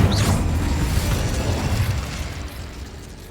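An Incendio fire spell cast in Hogwarts Legacy: a loud, dense whooshing burst of flame with a deep rumbling body that holds steady and then slowly fades.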